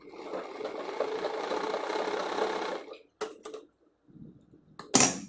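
A sewing machine stitches the joint seam of a chudi pant in a steady whirring run for about three seconds, then stops and gives a few short bursts with handling noises in between.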